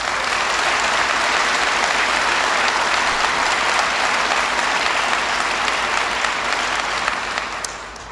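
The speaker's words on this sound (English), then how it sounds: "please give Harry Reid a big round of applause" Audience applause for Harry Reid at a Nevada event with President Obama, a loud, dense and steady wash of clapping from a large crowd, sustained for the whole stretch and tapering slightly at the end.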